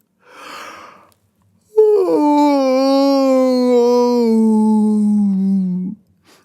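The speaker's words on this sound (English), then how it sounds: "He yawns." A bear yawns up close: a short breathy intake, a pause, then one long, loud, drawn-out moaning yawn that slowly falls in pitch over about four seconds before cutting off.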